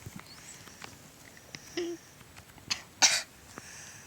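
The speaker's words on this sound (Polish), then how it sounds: "Ta, która co chwilę kaszla." A girl coughs a few short, sharp times, fairly near but not loud, with brief throat-clearing bursts spaced out over a quiet room background and no speech.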